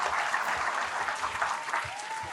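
Audience applause at a poetry recital on stage, a steady dense wash of clapping from a large crowd, loud and continuous throughout, with faint voices underneath.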